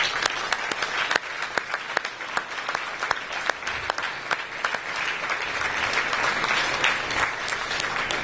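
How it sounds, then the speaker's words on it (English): An audience at a service-to-students award presentation applauds continuously, with sharp individual claps standing out against a sustained moderate wash of clapping. "you need to give them a great round of applause"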